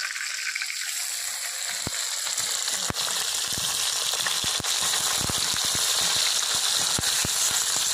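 Rohu fish pieces fry in a pan with a bright, steady sizzle and crackle close up, broken by sharp taps and rattles as the pieces are turned, no voices.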